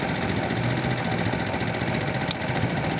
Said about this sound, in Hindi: अब बाइक स्टार्ट है, बाइक स्टार्ट है।